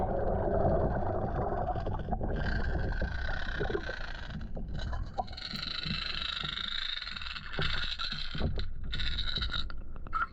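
Rapid, continuous rattling of an Excalibur lipless crankbait lure, close and fairly loud, with a gritty, clattering texture and no voices.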